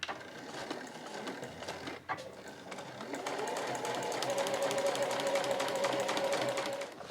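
A home sewing machine stitches closed the turning opening of a tall 8-ounce canvas tote bag, a fast rhythmic mechanical whir that pauses briefly, then runs on steadily and louder.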